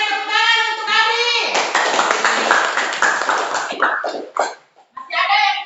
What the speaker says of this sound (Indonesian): tepuk tangan untuk Adi.